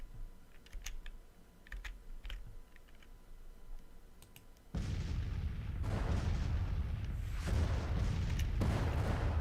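Civil War artillery fires during a Battle of Gettysburg scenario in the strategy game Grand Tactician. Faint keyboard clicks come first, then heavy, sustained rumbling booms roll in loudly and keep pounding.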